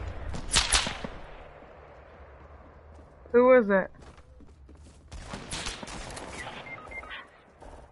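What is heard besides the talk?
gunshots in video game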